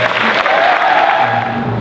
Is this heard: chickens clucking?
no